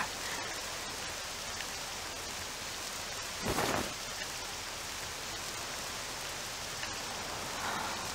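Steady rainfall hisses throughout a stormy scene in the video game Octopath Traveler 2, with a single loud rumble of thunder bursting out midway before the rain settles back to its even wash.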